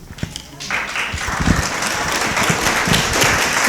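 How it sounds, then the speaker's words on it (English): An audience at a congressional candidate forum breaks into applause, the clapping swelling quickly into a dense, sustained patter of many hands. "please refrain from applause at this time"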